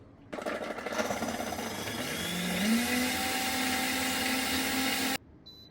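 A nut milk maker machine runs with a steady loud whirring motor hum lasting about five seconds, its pitch rising partway through before stopping abruptly.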